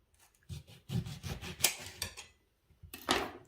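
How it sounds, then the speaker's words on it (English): A knife cuts through a small lemon on a cutting board, giving several close, short rubbing and slicing scrapes with brief pauses and a light knock of the blade on the board. "And I'm gonna cut this lemon."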